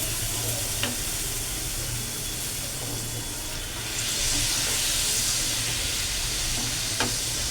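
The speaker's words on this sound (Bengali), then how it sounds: "মশলাটা কষানো হয়ে গেছে আমি এর মধ্যে এবার অল্প পরিমাণে জল দিলাম" Water poured into fried spice masala in a pan while cooking fish, producing a dense, loud, continuous sizzle and hiss with a few sharp clicks.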